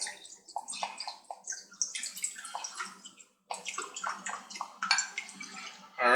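Worcestershire sauce is poured out for a chicken thigh marinade made with Italian dressing, giving close, uneven splashing and gurgling liquid sounds with one short pause.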